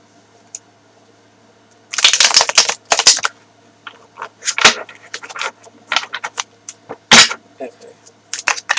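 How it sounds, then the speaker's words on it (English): Crisp, irregular bursts of cards being shuffled and riffled up close, with short pauses between and faint room tone. "let me try shuffling it a little bit more"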